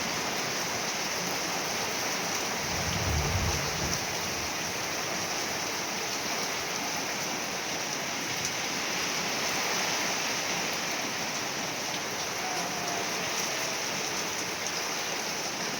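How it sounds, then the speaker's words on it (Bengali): Heavy pouring rain comes down in a continuous, dense roar of water on surfaces, loud and even from start to finish, with no voices. "একদম পুরো ঝমঝম ঝমঝম করে করে বৃষ্টিটা হচ্ছে"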